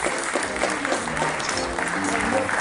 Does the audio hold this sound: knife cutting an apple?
no